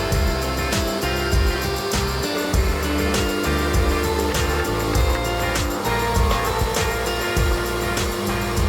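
A pressure washer pump runs steadily while it draws in winterizing fluid. Its loud, continuous mechanical drone has a pulsing, rhythmic churn.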